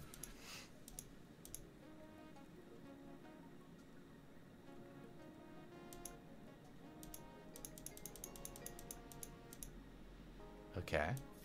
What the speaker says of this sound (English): I don't think it likes me typing into the field.